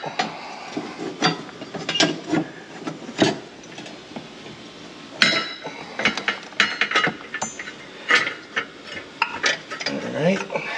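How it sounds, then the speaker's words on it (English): A ratchet tool torquing the clutch bolt on a Can-Am Maverick X3, with a series of close metallic clicks, ratcheting and clanks coming in short irregular bursts. "We're going to use our tool to torque it down."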